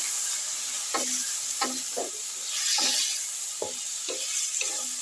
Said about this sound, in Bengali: পেঁপেটা ভাজা হচ্ছে